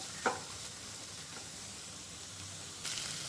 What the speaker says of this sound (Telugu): ఇప్పుడు ఆనియన్స్ లైట్గా ఫ్రై అవుతున్నాయి.